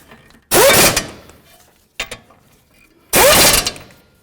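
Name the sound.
ratchet with 21 mm socket tightening Jeep caliper mounting bolts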